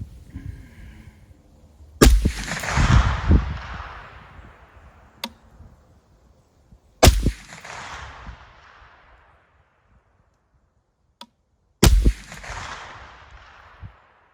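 Three loud rifle shots fired from 8.6 Blackout rifles with Gorilla ammunition at a 100-yard range during a deer season sight-in, spaced about five seconds apart, each a sharp crack followed by a long rolling outdoor echo.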